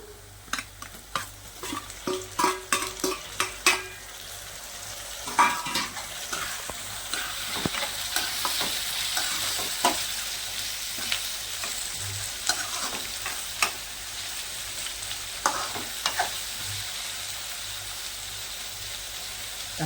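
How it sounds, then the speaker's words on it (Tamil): Tomatoes sautéing in a pan for dried seer fish thokku, a steady close sizzle with a quick run of spatula scrapes and clacks at the start and more scattered stirring knocks later. "அதையும் சேர்த்து நல்லா வதக்கி விட்டுடலாங்க. நம்ம தக்காளி சேர்த்துக்கலாங்க."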